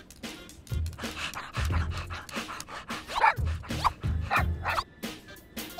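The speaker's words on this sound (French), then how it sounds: "Il est trop mignon, son petit toutou." A small cartoon dog barks in quick, high yips mixed with panting and whimpers, close and lively, with short pauses between bursts.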